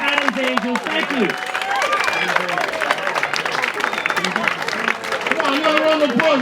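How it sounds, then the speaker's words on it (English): An audience at a comedy fundraiser show claps and cheers for a comedian, a dense, sustained patter of applause mixed with crowd noise while a voice speaks over it. "Come on, another round of applause."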